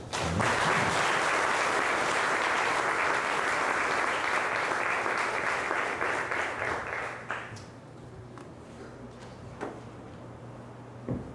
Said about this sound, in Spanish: Entonces recibámoslo con un fuerte aplauso.